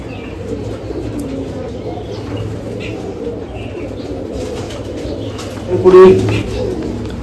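Fancy breed pigeons coo low and steady in the background while someone talks over them, with a brief louder flutter or call near the end.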